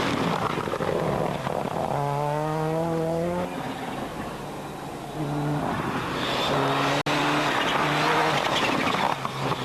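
Cosworth rally cars race along a mountain stage in mid-Wales, the engines rising in pitch through gear changes as a car approaches and passes, set against constant outdoor noise at moderate distance, with no talk heard.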